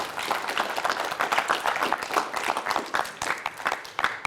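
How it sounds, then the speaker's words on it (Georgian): Studio audience applauding a quiz show contestant at the end of a timed round, a dense, steady burst of many hands clapping close to the microphone throughout. "აპლოდისმენტები გიორგის"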